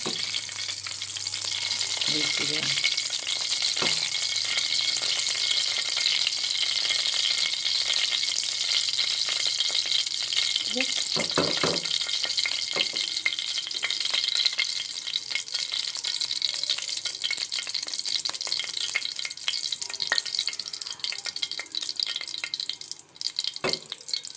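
Continuous crackling sizzle of cardamom pods frying in hot oil, steady and close, with a few brief clinks and stirs partway through.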